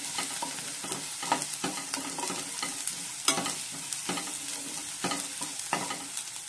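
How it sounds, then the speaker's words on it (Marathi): Turmeric powder is stirred into onion and tomato frying in a pan, with a steady sizzle broken by repeated sharp scrapes and taps of the spoon, close and clear with no talking. "त्याला या स्टेजला घालायची आपल्याला हळद पावडर। छान मिक्स करून घ्यायचं।"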